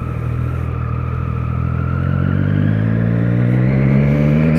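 A large motorcycle rides through rain, its engine droning loud and close with a slowly rising pitch as it accelerates, under a steady hiss of wind and road spray, with no talk.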